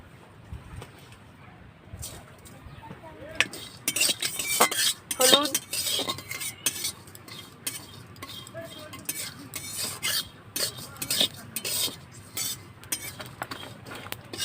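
Dry-roasting cumin, cloves and Darjeeling cardamom in a dry pan before a village-style spicy mutton curry, with busy metallic clinks and scraping of a utensil stirring the spices, growing louder and more rhythmic after a quiet start.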